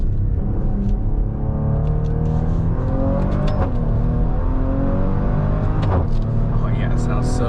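A Maserati Levante performance SUV accelerates hard during a launch, its engine revving up in a loud continuous rumble with rising pitch, heard from inside the cabin.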